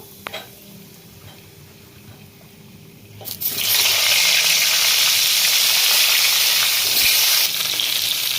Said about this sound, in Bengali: পটলগুলো আমি ভেজে নেবো